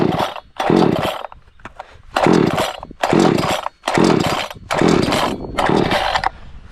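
Chainsaw being pull-started with the choke out for cutting firewood, its engine catching in six loud, close bursts that sputter and die between pulls.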